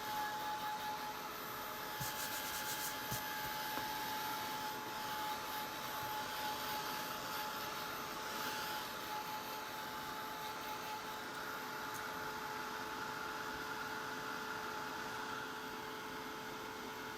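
A dryer blows air over wet paint on a wood heart craft piece, a steady close whooshing hum with a faint whine running unbroken throughout.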